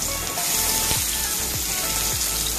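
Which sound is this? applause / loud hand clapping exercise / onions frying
onions frying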